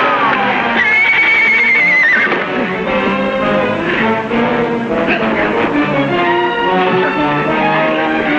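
A horse neighs loudly with a rising, wavering whinny over a busy, dense background of other sounds.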